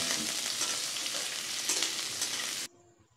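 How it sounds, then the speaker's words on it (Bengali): Potato and papaya pieces fry together in a pan with a continuous close sizzle and crackle, steady for under three seconds before cutting off abruptly to near silence. "এবার পেঁপে আর আলু একসঙ্গে আমি আরও কিছুক্ষণ ভেজে নিচ্ছি।"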